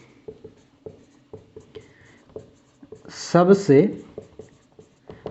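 Handwriting during a biology lecture on the brain: short scratchy pen strokes in an irregular rhythm, close and fairly quiet, with a brief burst of someone speaking in the middle.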